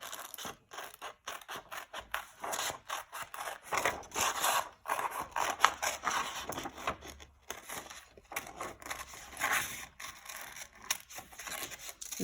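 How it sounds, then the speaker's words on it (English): Scissors snip through paper, cutting out a snowball shape for a snowman art project, in a steady run of close, crisp cuts and rustles with short pauses and no talking. "I'm going to cut out my bottom snowball."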